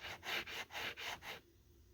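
A well-used sanding sponge rubs across a piece of amber in five quick back-and-forth strokes, each a soft, close scratchy swish, then stops into near silence.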